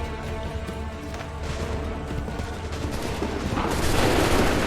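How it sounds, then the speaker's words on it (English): Rapid musket volleys and scattered gunfire from a battle in the Assassin's Creed 3 video game form a dense, continuous crackle of shots with booming low rumble, growing slightly louder toward the end. "Open fire! Hold fire! Wait for the signal! Shoot!"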